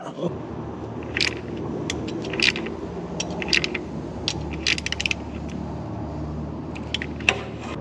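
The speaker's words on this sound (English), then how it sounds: "Once it's hand tight, I'll take the 18mm and tighten it a little bit more." A wrench ratchets and clicks while an 18mm oil drain plug is snugged down on a Vespa scooter, light metallic ticks and scrapes over a low hum, close and intermittent.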